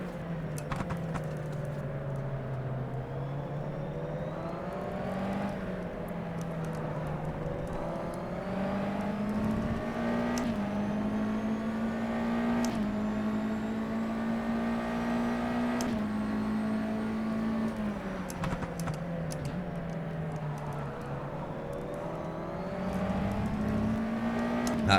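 A USF2000 race car in rFactor 2 at Homestead-Miami drones steadily close up, its engine pitch rising and falling repeatedly as the throttle is applied and eased through corners, with no talking.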